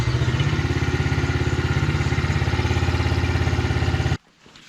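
An SSR 70 pit bike engine idles after an oil change with a steady, rapid mechanical putter and light clatter, loud and close for about four seconds before cutting off abruptly into near silence.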